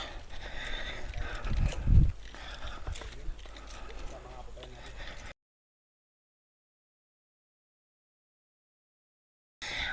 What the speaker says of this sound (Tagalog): Kabayo yan.